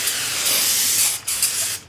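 Brake parts cleaner sprays onto a rear brake rotor from a 2014 Ford Escape, giving a close, loud, steady aerosol hiss for about two seconds with a brief break near the end.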